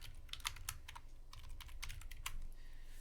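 Steady clatter of computer keyboard typing, a quick run of close, crisp keystrokes with brief pauses, over a low background hum.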